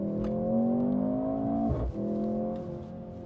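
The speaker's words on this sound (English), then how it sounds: "I hope you can hear the exhaust." Mercedes GLC 43 AMG in Sport Plus mode, the engine holding a steady droning rev with a sharp exhaust blip partway through, then settling at a slightly lower pitch, loud and close, no talking.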